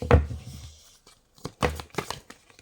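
Tarot cards shuffled by hand make a few quick, close riffling slaps and soft taps in uneven bursts, moderately loud, with short gaps between them.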